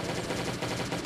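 Rapid automatic gunfire aimed at a zombie boss in the survival game Last Day on Earth, a dense, continuous burst of shots filling the whole moment at steady loudness.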